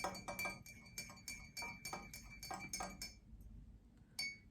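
Spoon stirring strawberry jam into hibiscus tea in a glass, a quick run of bright clinks against the glass, then a pause and one last clink.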